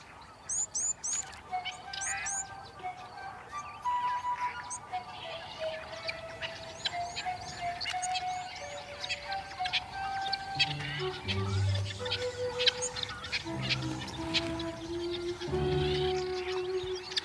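Assorted birds call along the Batete River, a shallow ribbon of water in the desert: chirps, tweets, whistled notes and low duck-like calls overlapping throughout, fairly close and lively, with a narrating voice at times.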